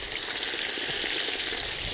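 Lamb sizzling loudly in hot fat in a cauldron over a campfire on maximum heat, a dense steady crackle and hiss filling the space without any voices.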